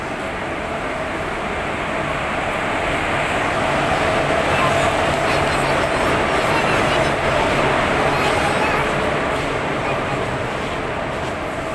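The Ernad Express passenger train rumbles steadily close by as it arrives at a station, a loud continuous roar with faint metallic squeals over it, rising slightly in the middle.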